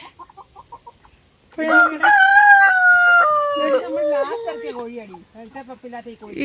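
A rooster crows loudly and close by in one long drawn-out call, preceded by soft clucking from chickens, with no talk over it.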